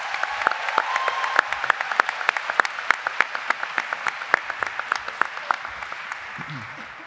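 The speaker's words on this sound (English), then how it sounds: "can you please join me in giving them a hearty round of applause?" Hearty applause from a commencement ceremony audience at Marist College's graduate and adult student ceremony, dense steady clapping with sharp individual claps sustained for several seconds before tapering slightly.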